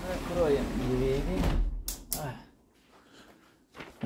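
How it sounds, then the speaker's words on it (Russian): A balcony door in a seafront two-bedroom apartment in Alanya, Turkey, shuts after a stretch of talking, with two sharp, close clacks near the middle followed by a quiet room. "Закроем двери."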